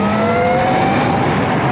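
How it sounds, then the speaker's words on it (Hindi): Riding an Electron Pro-Max electric scooter produces a steady, continuous rush of wind noise with a thin, high motor whine running through it, close and unbroken, with no voices. "ये एक तो साउंड इन इलेक्ट्रिक स्कूटर्स का ना काफ़ी फ्यूचरिस्टिक होता है।"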